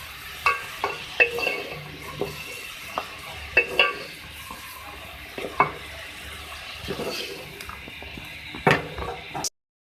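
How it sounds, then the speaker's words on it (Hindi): Beef keema with ginger-garlic frying in a pan, a steady sizzle broken by repeated scraping strokes of a spoon as it is stirred, close and clear with no talking. "इसको आपने इतना भूनना है कि इसका पानी खुश्क हो जाए।"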